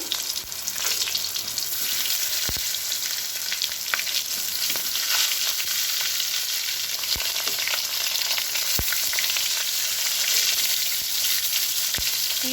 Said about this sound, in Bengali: নুন হলুদ আর ওই লঙ্কার গুঁড়ো মাখানো বেগুনগুলো ভেজে নেব আর বন্ধুরা এখানে বেগুনগুলো বেশ লাল লাল করে ভেজে নিতে হবে